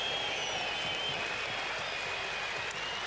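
Sustained broadband applause from a cricket crowd at a Test match presentation between Australia and South Africa, steady and dense throughout with no pauses.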